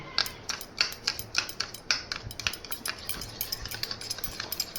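Whisking yogurt with sugar and salt in a bowl: a rapid run of clinking, scraping strokes of a utensil against the bowl, close and fairly quiet, with no talk.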